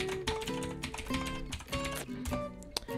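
Quiet, close fingers typing on a computer keyboard, a quick irregular run of key clicks with brief pauses between bursts.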